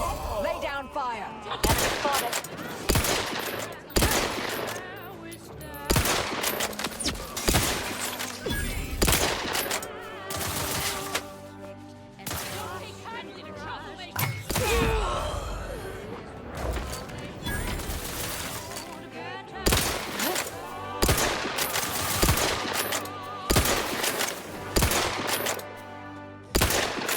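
Gunfire in the video game The Outer Worlds 2 erupts in repeated sharp bursts and rapid automatic volleys, loud and close, broken by short gaps, with voices speaking between the shots.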